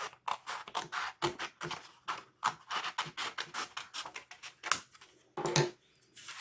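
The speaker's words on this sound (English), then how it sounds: "I'm going to snip it, and my eyes are on the tip of the scissors." Crisp scissor snips cut paper repeatedly for card making in quick, irregular bursts, close up, with short pauses between runs of cuts and no talking.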